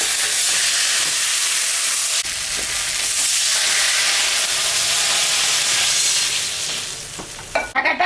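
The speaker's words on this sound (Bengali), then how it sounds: "এখন আমি জল দিয়ে দিই।" Water is poured into fried spice paste in a pan for a rohu fish and taro stem curry, giving a loud, steady, close sizzle and hiss that fades slightly before a few pan clatters at the end.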